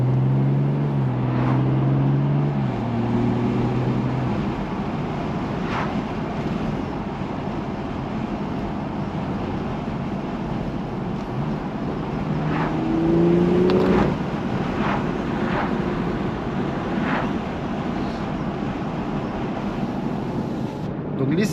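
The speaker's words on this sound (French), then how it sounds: "Donc on entend le retour à l'échappement lorsqu'on vient baisser" Exhaust of a 340 hp BMW 240i on a road test, with engine tones stepping up and down through gear changes and a few crackling pops on downshifts over steady road noise.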